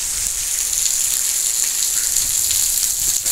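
A downpour keeps falling over farmland in a constant, close, full-band wash of rain that stays even throughout, with only a brief dip at the very end and no talking.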